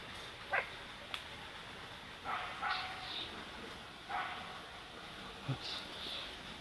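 A dog barks intermittently from some distance, with a few separate barks and short yips spread over several seconds against a quiet outdoor background.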